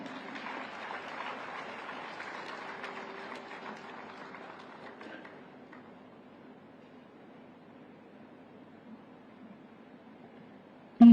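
An audience at a government event in Greater Noida applauds to welcome Akli Tudu from Jharkhand: a broad wash of clapping that holds steady for about five seconds, then fades to a low murmur, ending with a single sharp knock.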